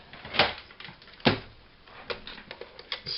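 A few sharp, separate snips and clicks come from cutting a paper tag for journaling, close and fairly quiet, with short pauses between them.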